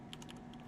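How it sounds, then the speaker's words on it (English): Quick, light clicks of typing on a computer keyboard, several keystrokes in an irregular run, faint and close, with no talk. "As you can see, it doesn't really matter what you're typing."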